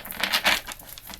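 Tarot cards shuffled close by, a brief soft papery riffle and crinkle lasting about a second, fairly quiet.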